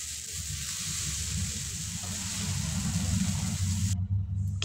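Chicken pasta frying in a pan, a steady low sizzle under a continuous broad hiss and rumble with no talk, cutting off abruptly near the end.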